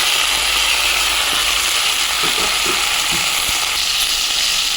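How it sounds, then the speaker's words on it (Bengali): Prawn masala poured over spinach in a hot pan sizzles loudly and steadily up close, with a few clinks of a utensil partway through and no voices. "এই পালং শাকের ওপর আমি চিংড়ি মাছটার মশলা শুধু ঢেলে দেবো"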